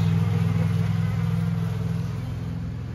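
Honeybees buzz at the entrance of a Layens hive during a colony transfer, a loud, steady, close droning hum that fades slightly toward the end, with no voices.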